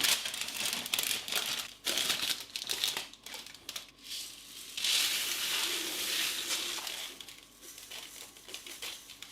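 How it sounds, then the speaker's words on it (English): A sheet of parchment paper is laid over pastry in a quiche tin and baking rice is poured in, giving close crinkling and rustling of paper with bursts of pattering grains, loud and without speech. "I'll take a sheet of parchment paper to cover the pastry and I'll pour in my baking rice"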